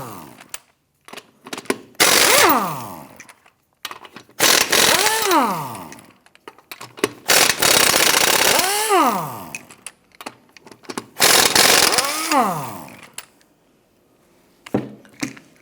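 Bursts of a power wrench whine up and wind down on a Nissan Rogue's wheel nuts, four or five separate loud runs with quiet gaps and small clanks between.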